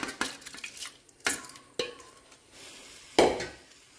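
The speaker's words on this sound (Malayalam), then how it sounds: "അങ്ങനെ അരി ഇട്ട് കൊടുത്തു അത് തിളക്കട്ടെ" Rice is tipped into a pot of water on a kitchen stove. Scattered metallic clanks and taps of the pot are followed by a sudden louder splash-like burst near the end.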